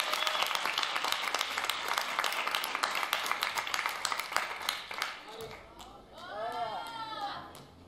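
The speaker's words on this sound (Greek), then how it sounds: "Ένα χειροκρότημα" Studio audience applause on a Greek TV talk show, a dense roar of many hands clapping for several seconds, then fading into a presenter's voice speaking over the dying claps.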